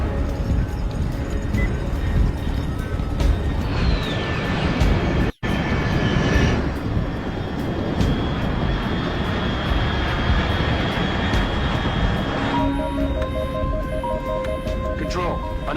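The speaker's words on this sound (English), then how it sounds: "Control, unidentified aircraft detected." Aircraft engine drone in the video game Metal Gear Solid 3 Delta: a steady, fairly loud roar held throughout with a brief dropout near the middle, joined later by tonal electronic beeps.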